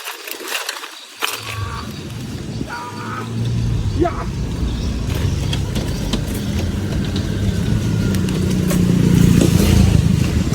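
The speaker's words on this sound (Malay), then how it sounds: "Motor lah kan, motor." A motorcycle engine runs on a rural paddy-field back road near Tanjung Karang, a steady rumble that grows louder toward the end. People talk over it.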